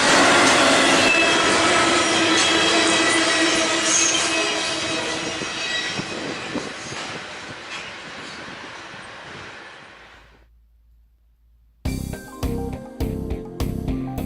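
CN Q115 all-intermodal freight train rolling past loudly, a heavy roar of wheels and cars with squealing wheels, fading away into near silence before sharp clunking sounds return.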